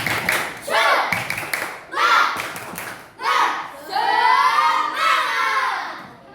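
Several bursts of group clapping in a quick pattern, schoolchildren doing an Indonesian tepuk semangat clapping chant, shouting along in unison, loud and close.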